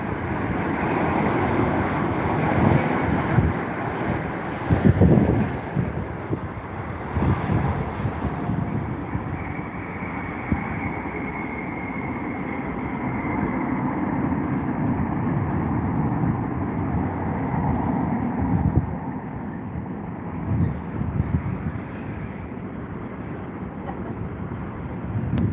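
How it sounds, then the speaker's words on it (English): A British Airways Boeing 787 Dreamliner at Heathrow on runway 09 left gives a distant, steady jet roar with wind noise mixed in, fairly faint throughout, no talk. "Good old BA in the Dreamliner"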